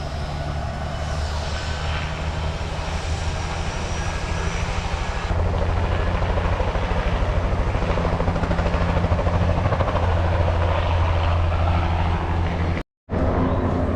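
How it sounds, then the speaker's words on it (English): A helicopter passes low over a house, its engine and rotor drone loud and continuous and swelling as it comes nearer, ending in a brief cut-off. "Okay, that's going to do it for the helicopter."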